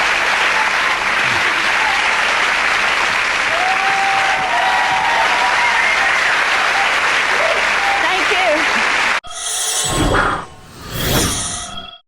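A studio audience on a dating-show reunion applauds in a dense, loud, sustained wash of clapping for about nine seconds, followed by a brief burst of voices and noise.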